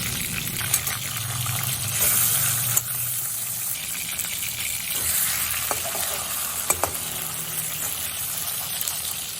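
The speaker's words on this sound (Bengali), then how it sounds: "গ্যাসের উপরে একটা কড়াই বসিয়ে তাতে পরিমাণ মতো সর্ষের তেল দিয়েছি তেলটা গরম হয়ে যাওয়ার পরে আমি দু টুকরো মাছ একসাথে দিয়ে দিয়েছি ভাজার জন্য" Two pieces of bhetki fish frying in hot mustard oil in a kadai over a gas flame, a loud continuous crackling sizzle with a few sharp knocks and clatters as the pieces are turned.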